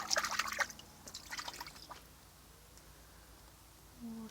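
Rainwater drips and trickles from makeshift guttering into a collection container outdoors, faint splashy patters bunched at the start, then thinning to sparse drips over a quiet background.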